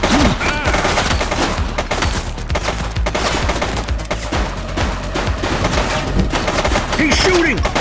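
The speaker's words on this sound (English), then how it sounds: "He's shooting!" Rapid gunfire from a suspect in The Precinct video game, loud, dense bursts of shots rattling continuously without pause, with no voices over the barrage.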